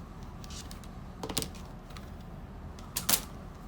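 A rotary cutter runs along a June Tailor Shape Cut 12-inch slotted ruler through fabric, making two short, crisp rasping cuts a couple of seconds apart over a quiet room hum.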